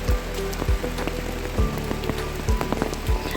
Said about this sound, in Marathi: आज सकाळपासूनच इथे पाऊस आहे आणि मधूनच एखादी धुवाधार सर येते